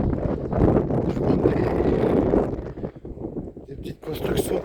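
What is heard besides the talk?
wind blowing into the microphone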